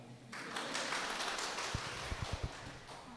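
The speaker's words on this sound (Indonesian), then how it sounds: "Siapa yang setuju tepuk tangan coba?" A church congregation claps in applause, a soft, fairly distant patter of many hands lasting a few seconds, with several sharper claps standing out near the end.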